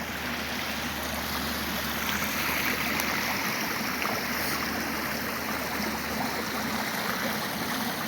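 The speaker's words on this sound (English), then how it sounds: "Beautiful little stream." Small forest stream flowing along a wooded trail in Mukilteo, Washington, a steady close rushing and trickling water sound, even and continuous without any voices.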